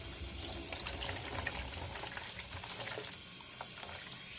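Filthy water splashes and trickles close by during a pig rescue, with a steady gurgling wash and small irregular splashes over a constant hiss.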